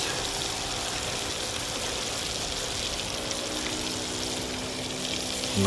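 Fish pieces frying in butter in a pan on a beach, a dense, steady sizzling hiss that stays even and close throughout with no talking.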